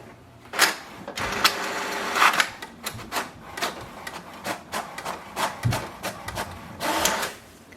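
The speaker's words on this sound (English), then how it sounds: "The printer will print the printer information page." An HP DeskJet 2910 inkjet printer prints an information page, its print head shuttling back and forth in repeated close, whirring mechanical passes with short clicks between strokes, heard alone without talking.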